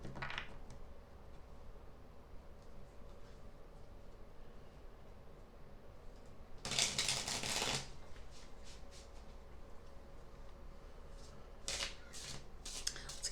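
Tarot cards being shuffled at close range, two distinct bursts of riffling and flicking with quiet pauses between and faint smaller card sounds around them.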